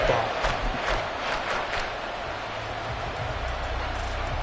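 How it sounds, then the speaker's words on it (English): A stadium crowd in an American football video game roars steadily throughout, a dense, continuous wash of cheering with no gaps and no distinct voices standing out. "Crowd getting in it a bit already."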